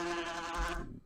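Single wasp buzzing sound effect from the Fun Run Arena video game, a steady, loud drone with an even pitch that cuts off after about a second, heard alone.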